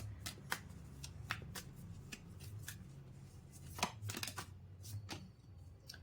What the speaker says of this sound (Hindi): देखो कितने डिफरेंट कार्ड्स निकल कर आ रहे हैं, आपके सामने ही निकाल रही हूँ मैं।